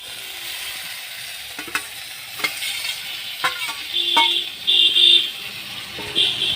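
Tender taro stolons frying in a pan with chilli, a steady sizzle with intermittent stirring scrapes and clinks, close and moderately loud, no talking.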